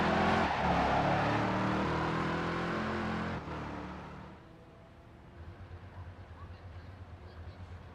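A Lamborghini Murcielago in the Midnight Club 3 racing game roars loudly at first with a rich engine drone, then cuts to a quieter, lower rumble near the end.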